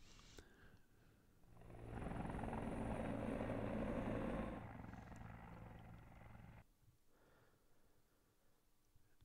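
A helicopter sound effect: the rotor thrum swells up loud, holds for a few seconds, then recedes and fades as it passes away.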